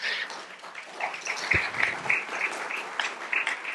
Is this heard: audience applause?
yes